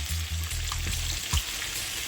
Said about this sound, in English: These ones are finished frying.